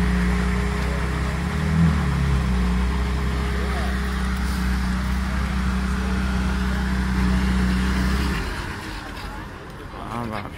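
Ferrari engine running close by: a steady, rumbling idle that holds for about eight seconds and then shuts off, leaving quieter background sound.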